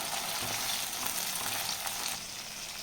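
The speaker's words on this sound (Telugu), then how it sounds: "ఆనియన్స్ కొంచెం ఫ్రై అయినాయండి ఇందులోనే పచ్చిమిర్చి కూడా వేసేస్తున్నాను" Onions and green chillies fry in a pan for a prawn curry, giving a steady, close, fairly loud sizzle that runs throughout and eases slightly near the end, with no talking.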